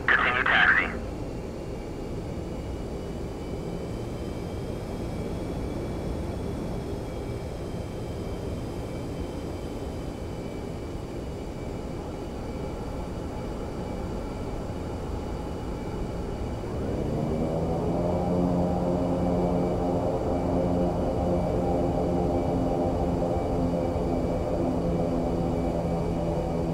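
Aircraft engine drones steadily while taxiing in the DCS World flight simulator during a night mission. The layered, even hum holds for most of the stretch, then swells to a louder, fuller roar as power is added.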